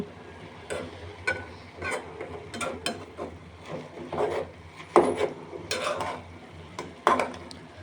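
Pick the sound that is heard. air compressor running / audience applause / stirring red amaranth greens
stirring red amaranth greens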